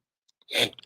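A single sharp sneeze bursts out after a couple of faint clicks, close and fairly loud, followed by small trailing sounds.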